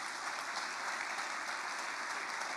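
A congregation in a church service claps steadily, a dense, even wash of applause from a crowd heard at moderate distance without pause for a couple of seconds.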